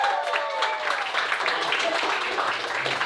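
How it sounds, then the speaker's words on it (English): At a stand-up comedy show, an audience claps and cheers to vote for a comedian, a dense, moderately loud burst of applause mixed with a few shouts, holding steady throughout. "Clap if you think that Camille was the most fucked up comedian this evening"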